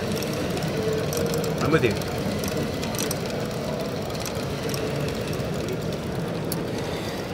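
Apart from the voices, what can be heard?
gas turbine engine running up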